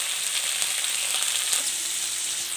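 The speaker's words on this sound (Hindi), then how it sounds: "तो देखिए हमारा मटर लगभग फ्राई हो चुका है।" Peas frying in a pan, a steady close sizzle that holds evenly throughout with no voices.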